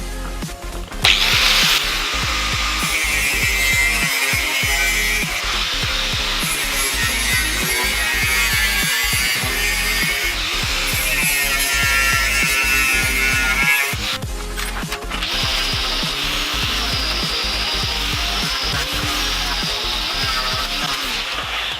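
A power tool cuts a notch out of the corner of a sheet-metal centre console panel in a workshop, a loud continuous grinding and rasping that runs almost unbroken, pausing briefly a few times, with no voices.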